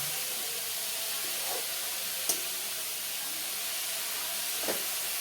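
Vegetables cooking in steam in a covered pot, a constant airy hiss with a couple of faint knocks, fairly quiet and steady.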